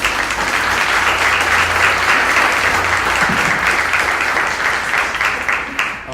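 A conference audience gives a steady round of applause, dense clapping that holds evenly for several seconds before starting to thin at the very end.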